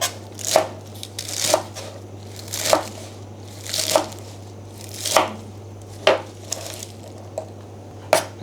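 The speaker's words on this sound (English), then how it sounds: "shiitake mushroom you can slice into the smaller piece" A knife cuts through vegetables such as Chinese celery and shiitake mushroom on a board for Thai vegetable soup, with about eight evenly spaced crisp chops under a low steady hum and no speech.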